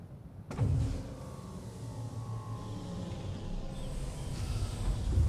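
Landing gear retracting on a Mirai Fury ship in Star Citizen: a sudden mechanical onset, then a steady motorized whir and hum that builds slightly toward the end, with no voices.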